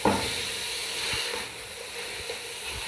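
Shredded chicken sautés in a hot pan for Chinese rice, giving a steady, close sizzling hiss with occasional soft stirring taps and no voices.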